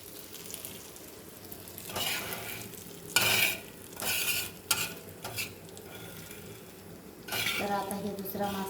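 Fish fries in a pan with a low sizzle under several louder bursts of scraping and clinking as a utensil moves and turns it, close by, with a voice faintly present.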